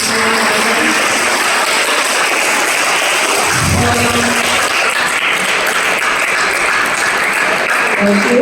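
Audience applause at a law careers session, a steady wash of clapping from a seated crowd lasting several seconds without speech.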